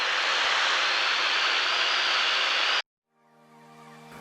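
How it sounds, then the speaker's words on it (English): Steady, loud broadband roar of a Jodel DR1050 light aircraft engine in flight over an East Anglia farm strip, cutting off abruptly near the end before a quieter engine hum with steady tones returns. "I fly a Jodel DR1050 out of this farm strip in East Anglia."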